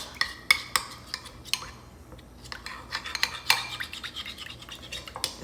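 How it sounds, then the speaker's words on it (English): A spoon stirs cheesy broccoli soup in a pot, giving quiet, irregular scrapes and light clinks against the pot with no voices. "So I'm just stirring this until it's nice and smooth"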